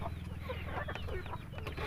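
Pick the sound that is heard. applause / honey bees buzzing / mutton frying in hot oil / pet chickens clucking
pet chickens clucking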